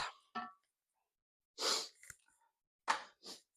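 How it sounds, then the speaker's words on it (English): A sneeze bursts out, preceded by a couple of short sharp breaths and followed by further quick exhales and sniffs, close and fairly loud. "Pepper, always, oh, excuse me, makes me sneeze."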